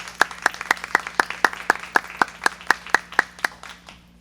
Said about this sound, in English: give a huge round of applause for all of our special certificates